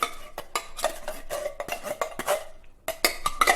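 Tinned black cherry pie filling, two 410-gram tins in thick syrup, is tipped into a pan, with repeated clinks and clatters of metal against the cookware in an uneven rhythm, close by and moderately loud.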